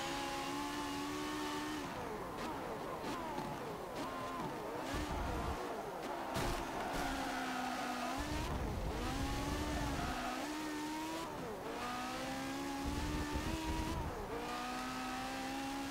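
Open-wheel race car in Forza Motorsport 7, its engine screaming and revving continuously with repeated upshifts, downshifts and brief tire squeal, loud and close throughout.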